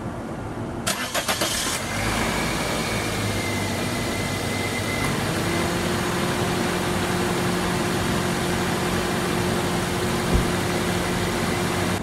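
A car engine cranks and catches, then settles into a steady idle that runs on continuously with no talking.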